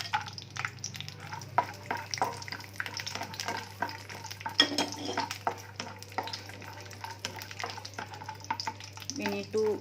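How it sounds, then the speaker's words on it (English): Cashews and almonds roasting in a pan over a slow flame, giving soft stirring scrapes and light sizzling that come and go in an uneven rhythm over a steady low hum, heard close up with no talk. "We need to roast this on a slow flame and get a golden color"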